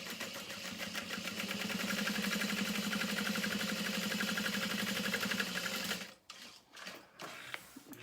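A sewing machine top stitches a beauty bag at a long stitch length of about 4.5 to 5, running steadily and close up for about six seconds before stopping, followed by a few faint handling sounds.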